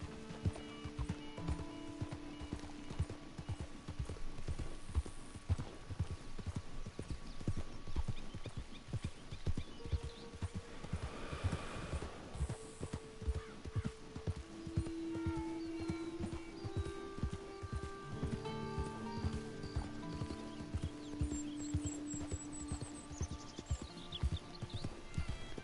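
A horse being ridden in Red Dead Redemption 2 Online clip-clops steadily on its hooves for the whole stretch, close and rhythmic, under game music and ambient tones.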